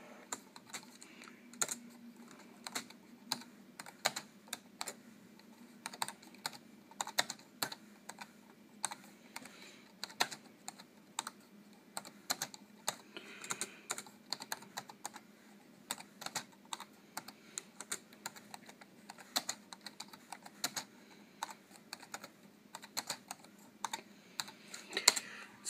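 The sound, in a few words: typing on Dell Latitude C800 laptop keyboard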